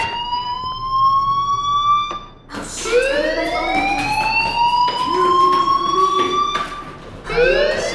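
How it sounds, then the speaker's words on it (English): Repeated electronic fire alarm tones sounding in the video game Life is Strange, rising sweeps that loop loudly and continuously with no talking. "Hey, do you hear that fire alarm?"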